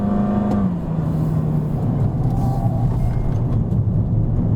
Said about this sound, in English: Okay, here we go, and we are going up, down to second gear.